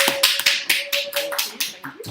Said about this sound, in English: So a big round of applause for her